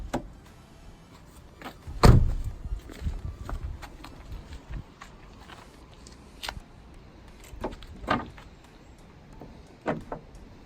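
The bonnet of a cheap project Volkswagen Polo with a 1.2 three-cylinder engine being opened: one sharp clunk of the latch, then scattered light knocks and rattles of the panel lifting, close by and without speech.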